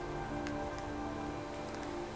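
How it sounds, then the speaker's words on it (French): Steady, dense rain pours down in the video game Heavy Rain, a constant hiss of drops with a few faint clicks on top and no talking. "Foutue pluie. Il n'a pas arrêté de tomber des cordes depuis que je suis arrivé."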